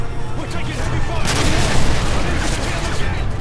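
A propane tank exploding in the Call of Duty MW3 video game, a loud rumbling boom mixed with gunfire that swells in the middle, with voices talking over the din.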